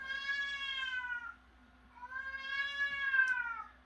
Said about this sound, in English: I swear, this cat.